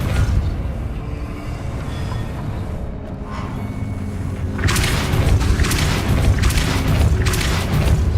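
A Depulso spell in Hogwarts Legacy lets out a deep booming blast, followed by a rumbling mechanical push with bursts of crackling debris, loud and close throughout.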